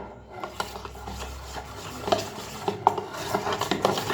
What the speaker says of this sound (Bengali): আমি চামচে করেই ফেটিয়ে নিলাম।